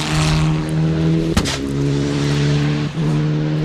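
A rally car accelerating hard along a straight on a sprint stage, the engine droning loud and high with short breaks at gear changes, close and alone without talk.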